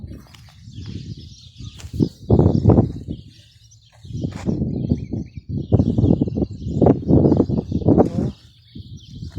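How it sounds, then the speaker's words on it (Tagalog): Birds chirp and call across a rural farm in the afternoon, a busy overlapping chorus of tweets in repeated bursts, fairly close and loud with short quieter gaps. "Daming ibon."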